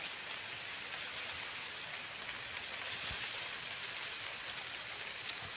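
Steady rain falls on an outdoor rural spot, a dense, even hiss of drops on surfaces without a break, with a single sharper tap near the end.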